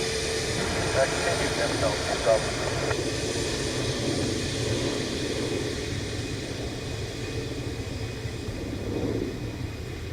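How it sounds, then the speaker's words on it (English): An ATR turboprop airliner returning to land, heard as a steady distant engine rumble on a rainy day at an airport that stays constant under faint background noise. "the ATR next, was Glasgow bound, has turned around, coming back in"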